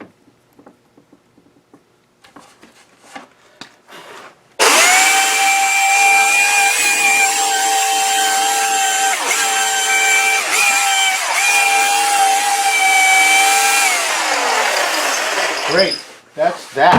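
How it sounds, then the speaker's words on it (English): Belt sander running on a copper beech wood tray, a loud sustained whine with strong steady tones that shifts slightly as the workpiece is worked, starting abruptly after a few quiet handling knocks and stopping near the end. "Belt sanded."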